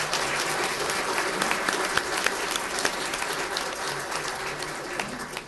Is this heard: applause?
yes